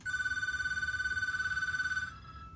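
A telephone bell rings in a steady, rapid trill for about two seconds, loud and close, then cuts off, leaving only quiet background.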